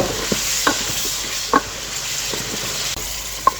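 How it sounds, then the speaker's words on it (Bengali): Tomatoes and potatoes sizzle and fry in a pan while a utensil stirs them, a steady hiss with occasional scraping clinks against the pan, close and alone without talk. "এখন টমেটো এবং আলুটাকে খুব ভালোভাবে নেড়ে চেড়ে একটু কষিয়ে নেব"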